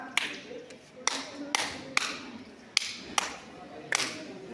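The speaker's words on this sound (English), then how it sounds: "You know how to clap the 3 factorial?" A small group claps a set counting pattern in a counseling-session role play, about eight sharp claps in uneven pairs, moderately loud over a faint room hum.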